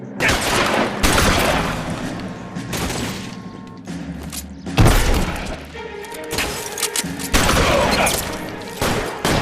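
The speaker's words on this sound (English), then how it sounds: "I get that you're using a shotgun" Shotgun blasts in an L.A. Noire police shootout, a dense, loud exchange of booming shots with shattering and clattering between them, the heaviest bursts coming in clusters, alone with no talk.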